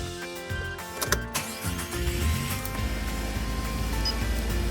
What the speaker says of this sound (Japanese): じゃあもう一回エンジンかけてみよう。